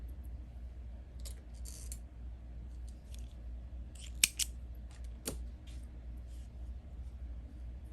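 Scissors snip through crochet yarn while finishing a baby mitten, giving a couple of sharp, close clicks over a quiet, steady low room hum.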